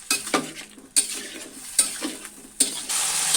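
Ash gourd pieces stir-fried in a pan, a soft continuous sizzle punctuated by four sharp, evenly spaced scrapes of a spatula against the metal, close up, with the frying swelling louder at the end.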